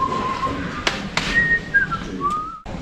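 A man whistles a sustained tune while setting out flowers in front of a shop, the thin melodic whistling carrying across the clip with a couple of soft thuds and handling noises.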